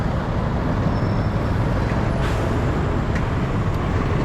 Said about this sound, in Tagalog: Grabe traffic, no?